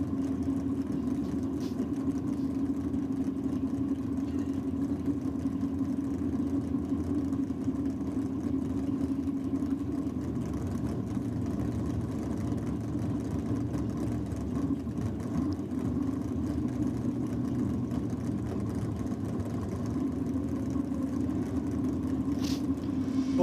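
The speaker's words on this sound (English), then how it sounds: "Dion coming out now on board Quicksilver, as the bike is affectionately known" The drag racing motorcycle nicknamed Quicksilver runs at a NSW Championship drag strip meeting, a steady mid-pitched engine drone and rumble that holds evenly for over twenty seconds without clear revving, with no voices.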